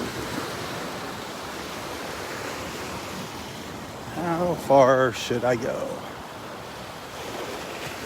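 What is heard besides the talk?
ocean waves on the beach at Delnor-Wiggins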